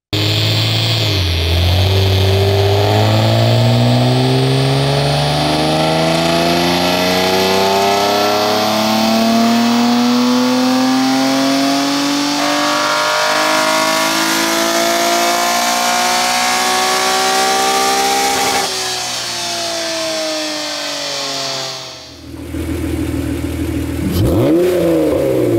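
First-generation Honda NSX with a 3.0 V6 VTEC engine, loud and close, climbing steadily through a long rising rev with smooth harmonic whine, dropping off sharply near the end before a brief renewed burst.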